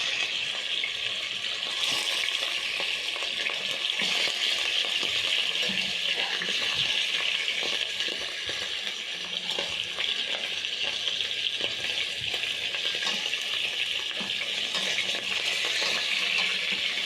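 Oxtail seasoned with black pepper sears in a hot pan as the pieces are flipped, giving a steady, loud, continuous sizzle and crackle with faint scraping and stirring underneath, no voices.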